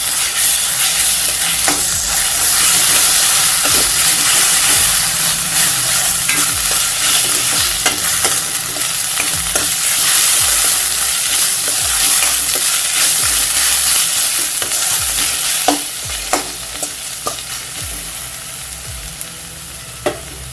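Ginger garlic paste fries with sautéed onions for a vegetable kurma, a loud constant sizzle broken by repeated scraping and clinking as a spoon stirs the pan.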